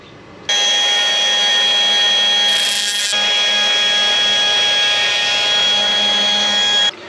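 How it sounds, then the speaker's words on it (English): A power grinder runs loud and steady for several seconds, grinding down the crimped lead end of a choke cable for a kei van, its high whine holding constant before cutting off. "I'm gonna go ahead and grind that down a little bit to help it fit in there"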